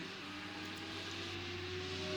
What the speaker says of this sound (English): Really great noise of that Audi.